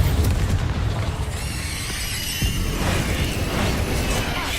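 Bombarda spell explosions in the video game Hogwarts Legacy, heard as a dense, continuous run of booming blasts and mechanical clatter that stays loud throughout, with no talk over it.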